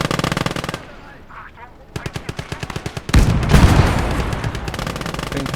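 Sustained machine-gun bursts from tanks in the video game Gates of Hell, loud and rapid-fire, broken by a short lull before heavier, denser firing and a booming blast resume.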